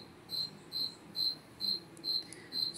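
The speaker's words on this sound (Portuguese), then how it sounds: "E o grilo cantando" A cricket chirps in short, evenly spaced bursts, about six pulses, fairly faint over a soft background hum.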